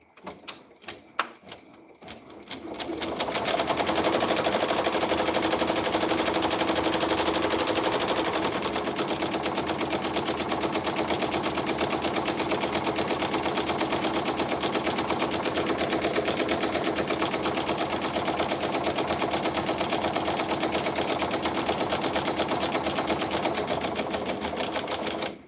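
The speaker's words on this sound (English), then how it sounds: "We're on the Ricoma Creator, which is a 10 needle." Ricoma Creator 10-needle embroidery machine stitching steadily, a fast continuous mechanical chatter that starts after a few seconds of clicks and runs loud and unbroken to the end.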